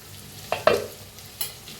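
Brinjal curry being stirred in a pan gives a couple of sharp spoon scrapes and clinks over a soft low sizzle, close and brief.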